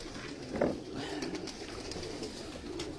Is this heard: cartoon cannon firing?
no